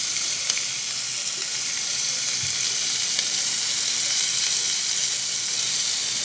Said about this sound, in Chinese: 啲肉咧煎一煎佢咧有種香味嘅